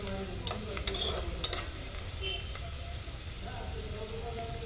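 Onions browning in a pan fry with a steady low sizzle while a spoon stirs them, giving a few soft scraping knocks over the continuous hiss.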